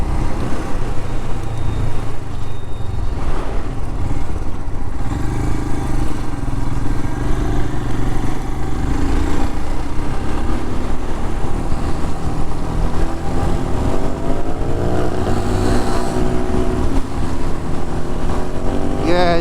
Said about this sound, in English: now I'm pulling on third gear at 80 kilometers an hour